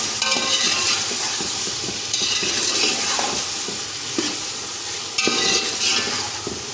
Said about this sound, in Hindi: अदरक लहसुन की स्मेल ख़त्म होने तक मैं इसको चिकन के साथ भून लूँगी।